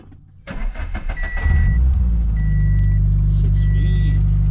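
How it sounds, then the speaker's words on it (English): A 2013-2020 Subaru BRZ with a six-speed manual cranks briefly, catches and settles into a loud, steady idle close by, with the engine's low rumble holding evenly after startup. "Let's start the car and make sure that it's charging good."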